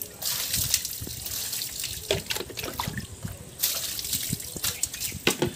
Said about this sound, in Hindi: थोड़ा पानी देकर मैं धो लेता हूँ